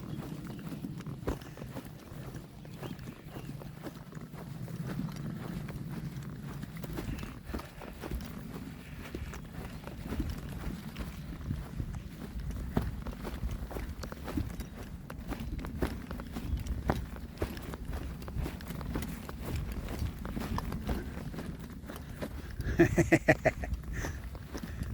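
Cows walking through a pasture on a thru-hike, a steady run of soft hoof thuds and trampling over grass, fairly close and continuous, with wind in the background and a brief louder bump near the end.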